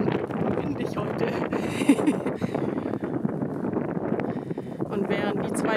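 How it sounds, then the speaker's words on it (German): Strong wind blows across the microphone outdoors at a horse paddock, a steady roaring rush throughout with a person talking over it. "Ganz schön windig heute."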